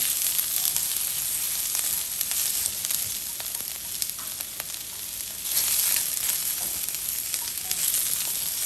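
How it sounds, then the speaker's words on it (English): Onions sizzling as they are stir-fried for a Chinese takeout-style pepper steak, a steady close hiss of frying with faint stirring scrapes and small swells in loudness, no talking. "as you're stir frying, you wanna loosen up your onions here, each layer"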